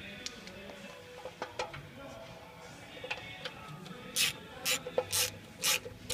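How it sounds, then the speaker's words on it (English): A ratchet snugs the oil pan bolts on a 1969 Ford Mustang Coupe during restoration, giving several short bursts of clicking near the end, with faint workshop noise before. "Tighten those bolts."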